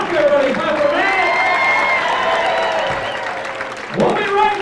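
Steady applause from a comedy show audience for a stand-up comic, with faint cheering, continues under a voice talking over it and swells again near the end.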